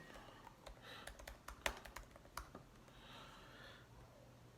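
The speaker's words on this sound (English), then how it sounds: "let's just type it in for the sake of it" Quiet, close typing of a search on a computer keyboard: a short burst of light key clicks, fading into faint background hiss and a soft breath.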